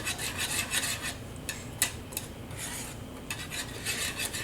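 A whisk scraping and rasping steadily against a pan of bechamel sauce, a continuous close stirring texture with a few sharper metallic ticks, no talking.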